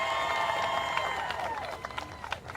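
A crowd applauds and cheers for the families of a state-champion high school football team at an outdoor parade, a loud, dense wash of clapping that thins slightly toward the end.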